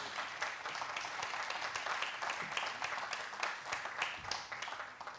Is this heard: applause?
yes